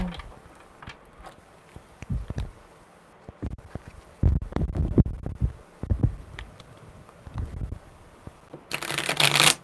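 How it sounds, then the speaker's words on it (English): Tarot cards being shuffled by hand in bursts of riffling and rustling, close and fairly loud, with no talking over it. "What a weird shuffle."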